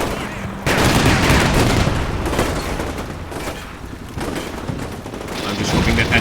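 Dense gunfire in the combat video game Combat Mission Shock Force 2, set in the Second Battle of Fallujah: sustained bursts of automatic fire and booms that rattle on almost without pause, close and loud.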